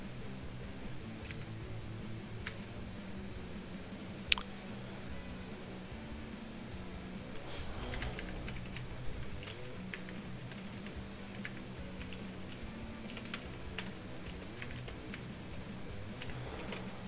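Someone types on a computer keyboard while programming a compiler in C. The keystrokes are soft, uneven clicks and taps over a steady low hum, with short bursts and pauses and one sharper click, and no talking.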